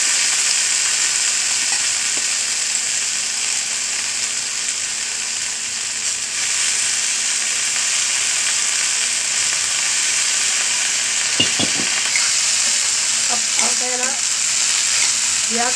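Chopped onion and coriander sizzle and fry in hot oil for a cauliflower bhaji, a loud, steady crackle close by, with a few scraping stirs and spoon clinks near the end.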